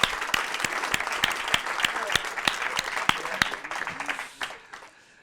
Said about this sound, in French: Moi, je propose que d'emblée, on les applaudisse.